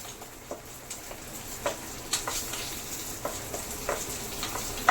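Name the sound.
frying raisins with cashews in ghee while stirring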